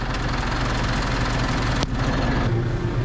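Farm tractor engine running steadily at a low idle-like rumble, close and continuous throughout, with a brief clunk midway and a slight shift in tone near the end.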